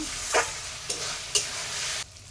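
Desi chicken cooking in a pan with turmeric and chili powder and a little water: a steady sizzle broken by three sharp scraping stirs of a spatula, close by, ending abruptly.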